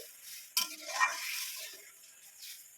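Lentils tipped into a pan of oil with fried ginger, dried and green chillies and bay leaf, giving a sudden sizzle and stirring scrape that fade to a steady, moderately close frying hiss.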